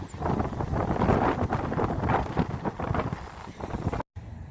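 Steady wind roars across a microphone at a beach, a dense low rumble that swells and eases, then cuts out abruptly near the end.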